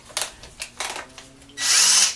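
Power drill with a spade bit briefly boring into wooden benchwork, a few short whirring bursts followed by a sustained loud grinding bite into the wood, close up.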